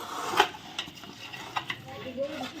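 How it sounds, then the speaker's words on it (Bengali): Katla fish heads being mixed by hand with salt and turmeric in a home kitchen, giving soft wet squelching and stirring sounds with a few sharper clinks and knocks, close up and moderately quiet. "কাতল মাছের মাথাগুলো এখন মেখে নেব ভালো করে"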